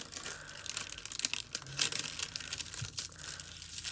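Tissue paper is folded along dotted lines while making a Diwali paper lantern, giving soft, close crinkling and rustling that comes in small bursts, faint and without talk.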